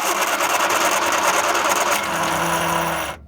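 The engine of an abandoned 1978 Triumph Spitfire cranks over fast on a remote starter without firing, a loud, steady churning whir that runs close for about three seconds before cutting off abruptly.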